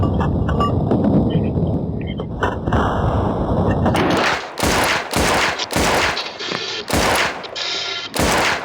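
Gunfire in a video game, starting as dense continuous rattling shots, then breaking into loud separate bursts and blasts with short gaps, close and forceful throughout.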